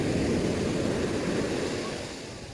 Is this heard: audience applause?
no